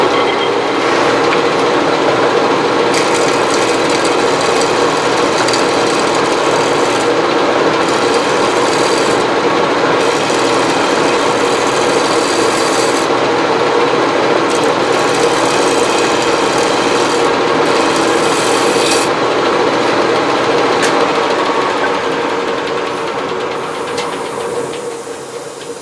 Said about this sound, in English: I'm going to get some sandpaper out and see if I can get a little bit of better shape.